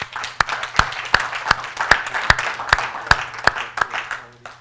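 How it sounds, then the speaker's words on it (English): An audience claps after panel presentations on earthquake early warning, sharp claps landing in an even, steady beat of about a dozen strikes, close and fairly loud. "Let's give everybody another round of applause"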